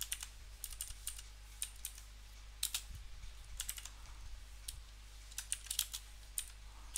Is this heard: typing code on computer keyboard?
yes